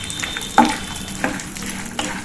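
Ingredients for panchmeva being dry-roasted in a pan over a low flame, with a few distinct stirring scrapes and a soft, steady sizzle underneath, close and fairly quiet.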